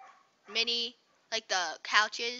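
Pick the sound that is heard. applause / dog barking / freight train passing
dog barking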